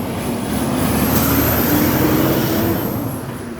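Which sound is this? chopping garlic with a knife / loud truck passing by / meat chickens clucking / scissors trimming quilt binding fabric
loud truck passing by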